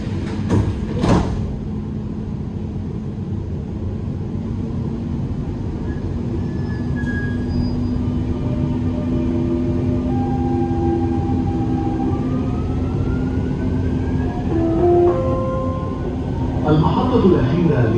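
A Dubai Metro Green Line train runs toward Creek, heard from inside as a steady rumble with rising and falling motor whines and a squeal of wheels; a short clatter comes early and a brief voice near the end.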